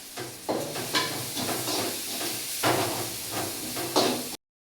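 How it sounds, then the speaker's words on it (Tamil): Onion, tomato, ginger and garlic sautéing in a pan, heard as a continuous close hiss and sizzle with periodic stirring scrapes that swell the sound, ending abruptly in silence. "வெங்காயம் தக்காளி இஞ்சி பூண்டு எல்லாமே வதங்கிட்டு இருக்கு"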